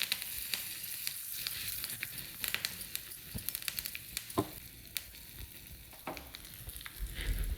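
Curry leaves and crushed pepper and cumin crackle and sizzle in hot oil for lemon rasam, a steady close frying hiss punctuated by sharp pops and spits throughout, with no talking.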